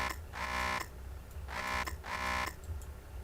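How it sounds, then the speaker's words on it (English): Guard buzzer in the Train Sim World 2 game on the West Cornwall local line, three electronic buzzes of about half a second each, evenly spaced, loud and alone. "I'll actually do the guard buzzer."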